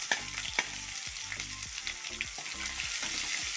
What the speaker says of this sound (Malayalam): അതുകൂടെ ചേർത്തൊന്ന് വഴറ്റാം.